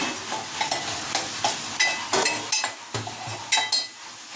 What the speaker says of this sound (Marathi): थोडंसं तेल सुटेपर्यंत 4-5 पीस आणि कलेजी टाकते त्याच्यासाठी.